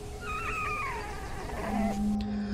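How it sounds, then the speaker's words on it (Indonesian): A weak kitten meows in a film scene, giving a few thin, wavering cries that slide downward in pitch over a steady background hum, close and fairly faint. "hanya tersisa satu ekor yang mengeong"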